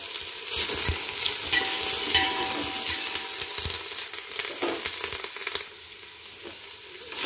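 Tomato and onion sizzling and frying in a pan for restaurant-style chicken biryani, a steady hiss with light scraping stirs throughout, close and fairly loud, easing slightly near the end.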